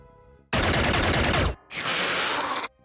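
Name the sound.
gunfire in the video game Xenonauts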